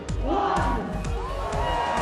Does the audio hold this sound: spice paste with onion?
no